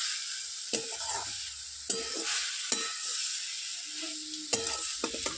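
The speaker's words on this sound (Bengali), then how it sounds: "মাছ ভাজাটা ব্যাস, একটু নাড়াচাড়া করে দিই ভালো করে, মশলাটা মাখুক" Small fish frying with spices in a pan, a steady sizzle broken by several sharp spatula scrapes as they are stirred, close by.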